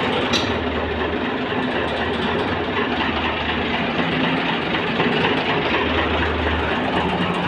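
Engine fitted with a pump, its revs rising and falling on their own, a steady loud low rumble running continuously with slight surges.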